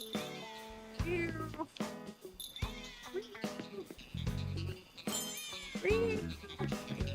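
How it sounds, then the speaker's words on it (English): Cats in Animal Crossing: New Horizons meow repeatedly when petted, a series of short game meows with a voice talking over them. "We gotta pet the cats."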